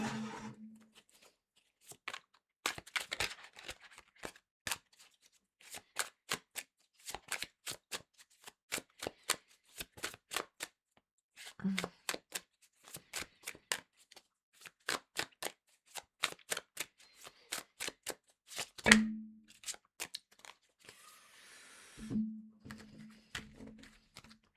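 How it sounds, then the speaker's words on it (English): A deck of tarot-style cards being shuffled by hand, with repeated bursts of crisp riffling and flicking that stop and start in short runs, close and fairly quiet, no talking. "I will shuffle the ones that have fallen out."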